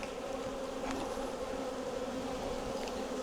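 Honey bees swarm around an opened hive, a dense, steady buzz from many insects close by, with no voices.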